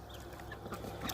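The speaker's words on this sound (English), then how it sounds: "That's my brother's chicken right there." A couple-year-old backyard hen among a mixed flock of chickens and ducks, giving soft, close clucks in a short irregular run over faint outdoor ambience, with no voices.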